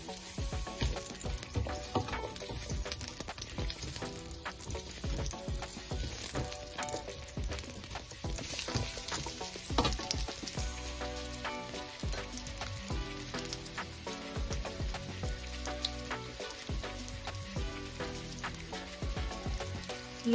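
Chopped onion sizzles and crackles in hot oil while serrano chiles are prepared with nopales, a steady bright hiss with scattered popping that continues evenly from start to finish.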